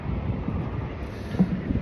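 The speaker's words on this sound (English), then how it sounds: "It's too windy." Wind buffets the microphone in low, uneven gusts, rumbling and swelling briefly before settling again.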